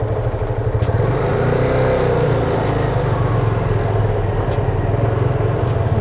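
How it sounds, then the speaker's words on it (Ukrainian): A motorcycle engine drones loudly and close with a fast pulsing rhythm as it gains speed, then eases off as the throttle closes and the rider pulls the clutch and brakes. "Виїжджаємо з повороту, набираємо швидкість, закриваю газ, щеплення і гальма."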